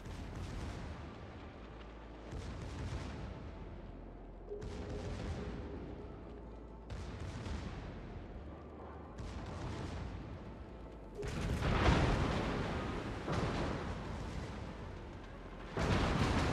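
Heavy naval gunfire from the German cruiser Ägir in World of Warships, a series of deep booming salvos roughly every two seconds, loud and rolling, with no talking.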